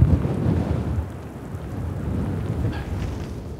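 Rain falls on the North Sea coast at Norderney, a steady wash of heavy rain with low rumbling surges like wind or distant thunder, fairly loud and continuous, with no talking.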